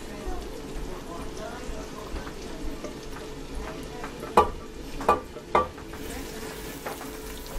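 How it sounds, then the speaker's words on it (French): Onions sautéing in bacon fat in a pan, a soft continuous sizzle with a few sharp scraping stirs of a utensil against the pan, while a person talks over it. "Je vais sauter les oignons avec le fat de bacon"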